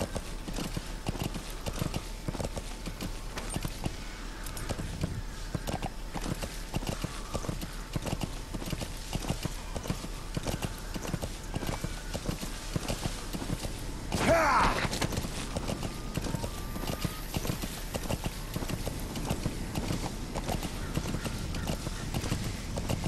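Horse hooves clip-clopping at a steady walking rhythm in Metal Gear Solid V, a continuous run of hoofbeats with a brief louder burst midway, closely heard and without talk.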